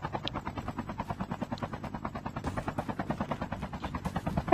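Helicopter in the Call of Duty Mobile battle royale game, a steady rapid rotor thumping pulsing evenly throughout, fairly close and continuous, with no voices.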